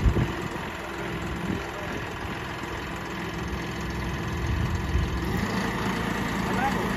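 A John Deere 5310 tractor fitted with a backhoe loader attachment runs steadily, its engine a low, even rumble that holds throughout, with people talking over it.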